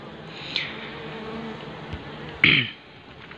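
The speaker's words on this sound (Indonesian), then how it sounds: "di sini sudah ada satu lebah ini yang sudah mulai menghisap ya" Apis cerana honey bees buzz close by while feeding on leftover pressed honey, a steady hum with a brief louder burst as one flies near.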